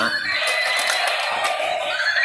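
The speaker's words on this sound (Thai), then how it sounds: "นี่ก็เป็นเจ้าหญิงนะครับ เจ้าหญิงสโนไวท์ ขี่รถม้า" A battery-powered toy horse carriage carrying a Snow White princess figure gives off a steady electronic neighing whinny, thin and tinny, held for about two seconds close to the mic with no talking.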